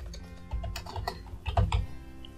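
Quick bursts of typing on a computer keyboard, a close, steady patter of key clicks over a low background hum, with no voices.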